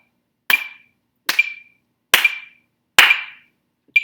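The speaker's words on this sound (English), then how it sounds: "basses, we're going to clap." Four loud, crisp claps in unison from a choir's bass section rehearsing, evenly spaced about a second apart, each ringing briefly, with a fifth clap starting at the end.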